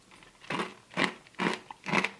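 Four crisp bites into a crunchy almond crunch topping on a Müller corner yogurt, each a short, close crunch at a steady, even rhythm.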